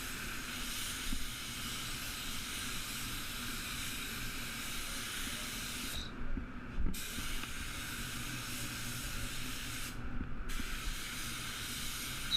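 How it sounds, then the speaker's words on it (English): A spray gun applying blue PPG Envirobase waterborne paint to a Toyota Hilux panel gives a steady, continuous airy hiss throughout. Two brief pauses break it, and a few faint knocks come up close. "making sure that spray pattern's hitting the panel evenly"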